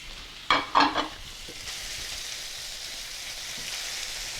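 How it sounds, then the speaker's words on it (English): Thin slices of chicken drop into a hot pan for a curry, with a couple of sharp hits and crackles at first, then a steady, moderate sizzle that keeps going with no talking. "Okay. So we can throw this into the pan."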